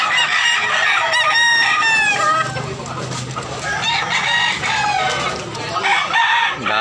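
Roosters crow repeatedly over steady hen clucking in a busy Tabunok, Talisay, Cebu poultry market, loud and close with overlapping calls throughout and faint crowd murmur beneath.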